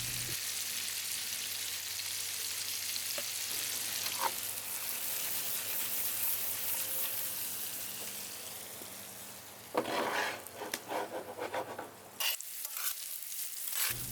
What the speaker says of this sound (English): take our diced pumpkin and throw it in there, add a bit of salt, and cook that in the doorway for about 5 minutes